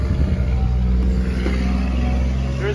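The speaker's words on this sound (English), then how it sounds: "Engine sounds healthy." A 2006 Chevy Silverado 2500 with the 6.0 V8 idles steadily up close under the open hood, a smooth low rumble with even texture throughout.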